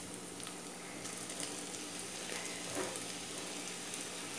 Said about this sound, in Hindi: अब इस स्टेज पे आके हम हमारा जो टमाटर है इसे डाल